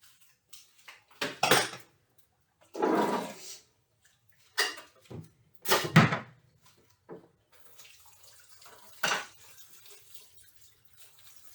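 Chickpeas soaked in salted water are rinsed in a kitchen sink, with several separate splashing, sloshing bursts of running water and rattling between quiet pauses, close by.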